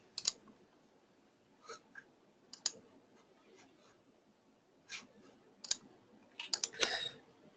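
A computer mouse clicks sparsely while someone works through software, with faint, close single clicks scattered irregularly and a tighter cluster near the end, over quiet room tone.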